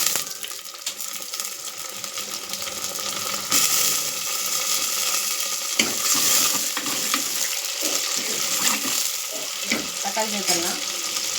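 Green chilli, curry leaves and tomatoes sautéing with onions for a stingray fish curry, a steady close sizzle with clinks and scraping of a utensil stirring in the pan, brief talk at moments.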